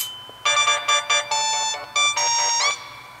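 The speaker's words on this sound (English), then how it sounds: "So now we're gonna boot up the phone" An HTC EVO LTE phone plays its boot-up sound, a loud, close electronic melody of bright tones in choppy bursts that then hold steadily before stopping, with no talk.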